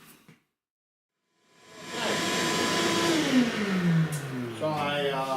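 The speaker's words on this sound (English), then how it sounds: "basically just took the shop vac real quick and just did as gently as I could swept the track area" A shop vac sweeps the track area of a model railroad layout, starting after a short silence and rising into a loud, steady motor whine with a shifting pitch that continues to the end.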